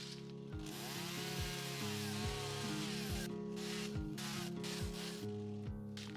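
A chainsaw with a freshly sharpened blade cuts through a small tree in a wooded front yard near a cabin. The engine roars loud and close the whole time, with rhythmic dips as the chain bites into the wood.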